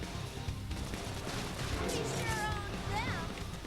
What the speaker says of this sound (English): Someone shooting at me from behind?